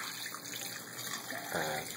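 Curing brine for bacon and ham pours into pans and buckets, a continuous splashing trickle that grows fuller and louder near the end.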